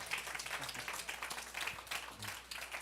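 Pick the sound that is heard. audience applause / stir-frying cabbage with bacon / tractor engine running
audience applause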